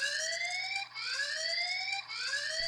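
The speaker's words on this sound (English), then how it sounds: "So here I've taken my doorbell off of the back plate, which immediately sounds an alarm." Wireless security doorbell camera sounding its tamper alarm after removal from its back plate, a shrill electronic tone sweeping upward in repeated cycles of about a second, three rising sweeps with brief gaps, loud and close.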